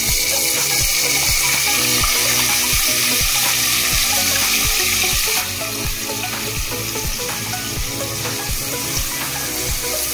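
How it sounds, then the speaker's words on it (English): Onion for a mutton dish fries in a pan with a loud, continuous sizzle and repeated scraping stirs at a steady rhythm, heard up close and easing slightly partway through. "After that I will put onion. I'll put onion."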